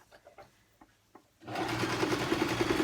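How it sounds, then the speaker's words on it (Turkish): Sewing machine stitching a padded fabric bag with foam inside, set to the fourth setting; a few quiet taps, then a steady fast running whir that continues to the end. "Makineyi de altı sünger olduğu için dördüncü açık ayarda çalışıyorum."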